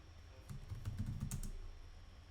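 Rapid typing on a computer keyboard, a quiet flurry of close key clicks lasting about a second and a half against low room noise.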